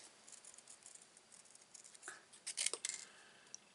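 Scissors snipping paper shapes out of a craft sheet, a faint run of small close-up cuts that grows into a cluster of crisp snips near the end, alone with no talk.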